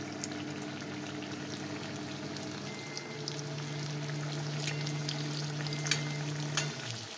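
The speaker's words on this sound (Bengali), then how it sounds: "আমি ভাজবো একটু মিডিয়াম হিট ভাজছি" Semolina-stuffed kulcha frying in hot oil in a wok over medium heat, a steady close sizzle with crackling bubbles throughout and no talk.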